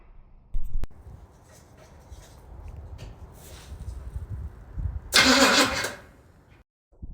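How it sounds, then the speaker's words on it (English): The engine of a 1966 Pontiac GTO cranks over after an ignition coil replacement. A low background rumble is broken by a short thump, then a loud, rough burst of cranking lasts about a second before it drops away. "we'll give it a crank and see if we have spark getting to the engine"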